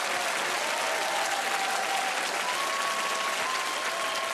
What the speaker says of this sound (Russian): а зрители будут вам аплодировать